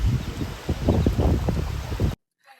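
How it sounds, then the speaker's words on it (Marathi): Strong wind with rain on a fog-covered mountain: a dense, gusty roar buffeting the microphone for about two seconds, then cutting off abruptly to near silence. "मजबूत असा पाऊस सुटला वारा वादळ"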